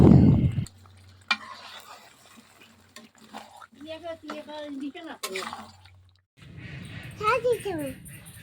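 Chicken chaap cooking in a pan at home: a soft, steady sizzle and frying hiss with intermittent stirring scrapes and clinks, heard under a voice talking through much of the passage.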